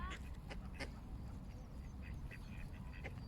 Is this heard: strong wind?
no